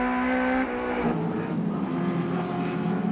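Race cars lap the Amaroo Park circuit in a 1987 AMSCAR race, engines wailing loudly and close with a sharp gear change early on, then a steady high-revving roar continuing throughout.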